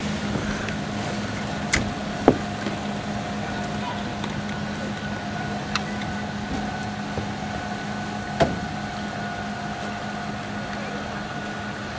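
A quiet Torqeedo electric-powered pontoon boat glides past, a steady low hum blending with water and wind noise, a few faint clicks and knocks scattered throughout.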